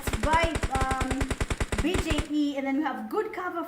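Rapid automatic gunfire from a battle royale video game, a loud, fast burst of evenly spaced shots that stops abruptly, followed by voices talking.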